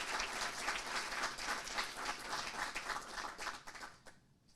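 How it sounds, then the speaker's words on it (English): An awards ceremony audience for green schools breaks into dense, steady applause that carries for several seconds before tapering off quickly. "We'll give them a round of applause,"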